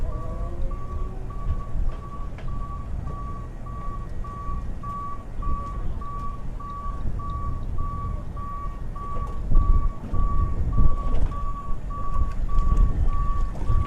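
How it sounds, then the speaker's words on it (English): A hydraulic swim platform on a 2020 Cruisers Yachts 42 Cantius runs with a steady train of evenly spaced warning beeps over a constant low mechanical hum and background rumble. "We got the hydraulic swim platform here"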